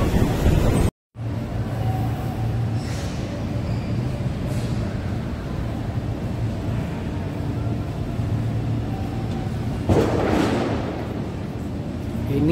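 Steady low rumble of a Chinese-built KRL commuter train at Jakarta Kota station, continuous throughout with a brief dropout near the start and a louder swell toward the end, no talk over it.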